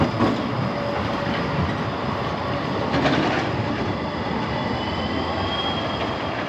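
A tram rolls along street tracks in Bratislava, a loud steady rumble of wheels on rail with faint metallic squeals and clatter, close by and continuous.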